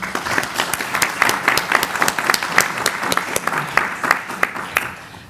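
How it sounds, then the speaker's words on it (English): A conference audience at a law institute gives conference panelists a warm round of applause. Dense, steady clapping fills the room at moderate volume, with no talk over it. "I would love a warm round of applause for our panelists."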